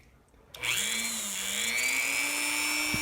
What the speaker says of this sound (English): just grab the screw, probably with my vise grip, and just run the screw into the Dremel tool